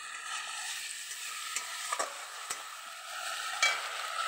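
Spice paste being sautéed in hot oil over high flame, a steady close sizzle with occasional scraping stirs of a spatula, no voices.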